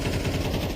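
Rapid automatic rifle fire in Counter-Strike 2, a dense unbroken burst of close, loud shots spraying from Ramp and Palace during a professional match.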